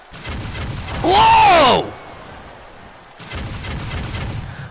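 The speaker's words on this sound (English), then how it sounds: "That was a cannon." A cannon fires during wrestler Persia Pirotta's ring entrance in the WWE 2K22 video game. It is one loud, sharp boom lasting under a second, with a man exclaiming over it, followed by a quieter crowd-like background.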